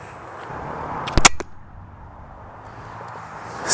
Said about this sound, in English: And now I'm gonna take another shot.